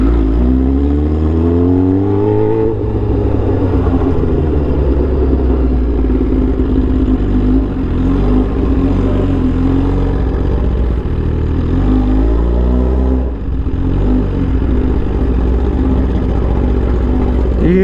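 A tuned Suzuki GSX-R1000 motorcycle engine idles loud and close, its rough low note swelling with quick throttle blips into short revs that fall back again.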